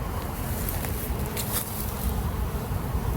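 Honey bees swarm around an open, crowded hive during an inspection, a dense continuous buzz that stays loud and close throughout with no voices over it.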